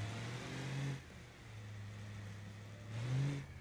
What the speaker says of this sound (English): Try not to make too much turbo noises because this truck, the turbo's loud on this thing. This Silverado got a loud turbo.